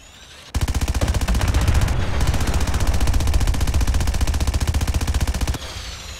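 Sustained automatic gunfire from Fallout 4, a loud, rapid, evenly spaced burst of machine-gun shots running for about five seconds alone, then cutting off abruptly.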